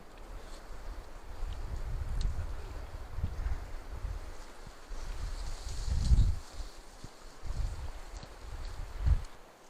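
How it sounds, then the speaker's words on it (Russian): Strong gusting wind buffets the microphone on a riverbank during spinning-rod perch fishing, with low rumbling surges that swell and fade irregularly, peaking in loud bursts; no talking. "Очень сильный ветер и боковая дуга получается выдувает."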